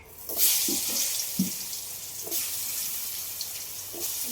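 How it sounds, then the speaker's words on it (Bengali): A steady broadband sizzle of potatoes frying in hot oil, with a few soft clinks and a brief voice fragment near the start. "আলুগুলো একটু হালকা করে ভেজে নেবো"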